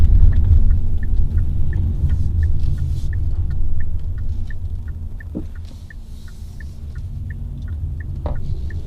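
Interior cabin sound of a Kia Niro plug-in hybrid driving on the road: a steady low road and tire rumble with a faint regular ticking, like a turn signal, and a couple of brief creaks.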